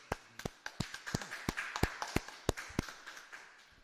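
A small group claps at a scripture class, sharp, distinct claps in a loose, uneven rhythm that come close together and stay fairly near throughout.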